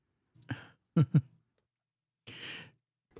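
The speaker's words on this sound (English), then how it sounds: "Had to clear my throat." A few short, harsh throat-clearing bursts close to the mic, followed after a pause by a longer breathy exhale.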